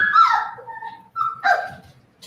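Four-week-old Labrador puppies whine and yip up close, a few high, wavering cries broken by short pauses, with no talking over them.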